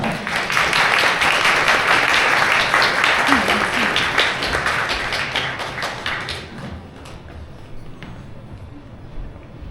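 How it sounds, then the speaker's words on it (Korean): An audience at a wedding ceremony in a chapel hall claps loudly for several seconds, a dense burst of applause that gradually thins and fades out, with some voice faintly underneath. "목사님을 여러분의 큰 박수로 모시겠습니다."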